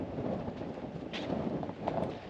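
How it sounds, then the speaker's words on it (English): Steady wind rushes and buffets the microphone outdoors at the rim of an active volcano, a continuous low roar with no voices. "now it's a bit windy and everything"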